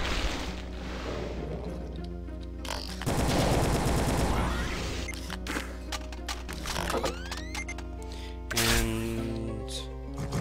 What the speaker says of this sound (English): keep the rocket launchers going